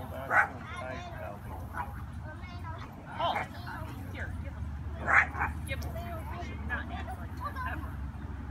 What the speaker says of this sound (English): You see a puppy?